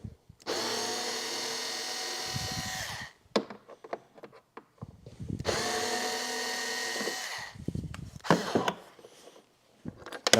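A power drill runs in two long bursts, unscrewing screws from a motorcycle trunk liner on a 2021-or-newer Honda, with brief clicks and handling noises between the runs and no talking.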